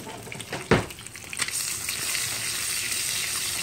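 Bacon fries in a pan on a kitchen stove with a steady, bright sizzle. A sharp clatter comes near the start, like a utensil against the pan.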